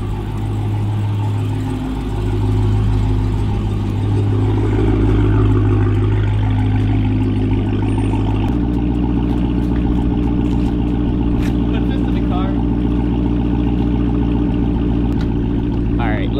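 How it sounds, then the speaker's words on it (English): A Dodge Challenger Hellcat Redeye cold starts with a loud, steady engine rumble and whir that drops to a lower idle partway through. The engine stays prominent and close throughout. "Cold start, and I swear it gets louder."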